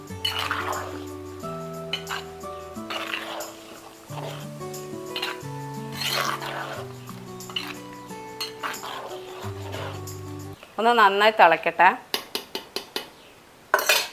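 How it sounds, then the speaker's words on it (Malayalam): A spoon stirs sambar in a cooking pot, scraping and clinking against the metal in quick bursts near the end while soft background music plays throughout and a voice speaks briefly. "നന്നായി ഒന്ന് ഇളക്കി കൊടുക്കാം"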